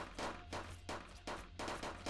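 Bursts of gunfire in the shooter Shell Runner, several short, rapid volleys separated by brief gaps, fairly quiet and distant-sounding.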